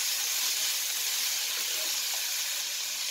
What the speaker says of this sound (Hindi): अब हम इसमें गाजर और ये शिमला मिर्च डाल देंगे और 2 से 3 मिनट के लिए इसको फ्राई कर लेते हैं।